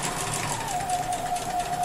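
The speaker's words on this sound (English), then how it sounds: "I'm going to start stitching" Sewing machine chain piecing quilt pieces, running in a continuous fast whir with a thin steady hum, close and alone for under two seconds.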